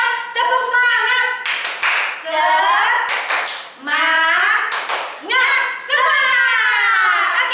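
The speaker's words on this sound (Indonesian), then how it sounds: "Ayo, kita mau sekali lagi dong, tepuk semangat ya." A children's Sunday school worship group does a rhythmic spirit clap, sharp bursts of hand claps spaced through the clip while young voices chant and shout loudly along with them.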